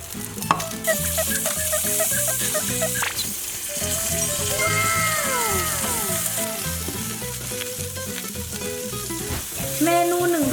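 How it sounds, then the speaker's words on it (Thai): Vegetables stir-frying in melted butter in a pan, a steady loud sizzle with scraping stirring strokes throughout, close up and continuous, with no talking. "เรามาผัดผักกัน"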